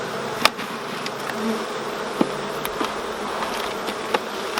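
Honeybees humming in an open, queenless beehive make a continuous, dense buzzing drone close by, with occasional faint clicks and knocks from the hive over it, and no talking.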